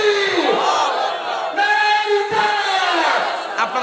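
A large crowd at an outdoor Islamic religious sermon roars a takbir in unison, a loud sustained chant of many voices rising and falling together.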